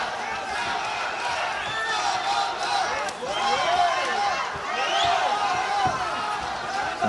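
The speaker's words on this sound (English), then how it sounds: "The crowd are shouting SAMANDAR." A UFC arena crowd shouts the fighter's name Samandar during a bout, a steady roar of chanting voices with rising and falling cries layered over the noise.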